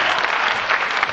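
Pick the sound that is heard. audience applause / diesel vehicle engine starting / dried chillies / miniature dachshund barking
audience applause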